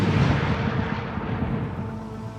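A demolition blast brings down an earthquake-damaged building, a loud deep boom that rolls on into a long rumbling decay.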